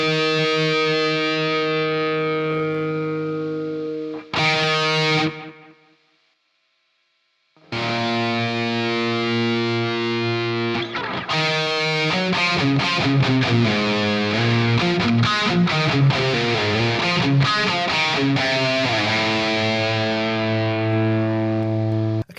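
Electric guitar played through an Amped Block Letter with delay and reverb engaged, distorted sustained notes and chords ringing out with echoing tails, a brief gap of silence, then busier strummed phrases.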